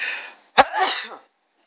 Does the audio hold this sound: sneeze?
yes